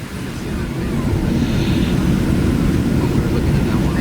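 A passenger airplane landing, heard from inside as a loud, steady low engine roar and rumble that swells slightly and holds throughout.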